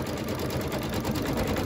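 A home embroidery machine stitches a Halloween quilt-block design, sewing crack lines into columns with a steady, close, rapid mechanical whir and no talk.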